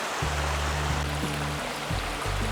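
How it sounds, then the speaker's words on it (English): A mountain creek in the Pecos Wilderness rushes steadily at close range, a dense continuous wash of flowing water that holds level throughout with no voices. "the creek keeps getting bigger"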